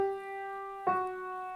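Four piano notes from a theme ring out one after another, sustained and clear, with a louder attack on the final note and no voices.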